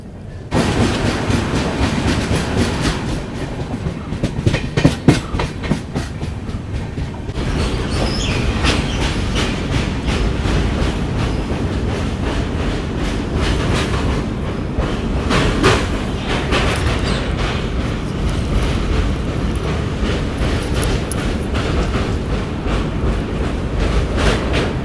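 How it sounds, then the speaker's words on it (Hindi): Kanyakumari Pune Express running slowly as it diverts onto the adjacent line, with steady loud wheel rumble and rhythmic clickety-clack over the points, continuous throughout with no talk. "ये देख लो बगल वाली लाइन पे अभी अपनी ट्रेन डाइवर्ट हो रही है"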